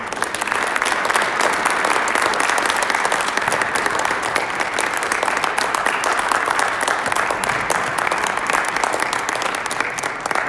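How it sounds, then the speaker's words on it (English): An audience at a high school athletics spring signing ceremony applauds four student athletes with loud, dense clapping that holds steady for the whole stretch, with no talking over it. "let's give these 4 outstanding student athletes a round of applause for everything they've done"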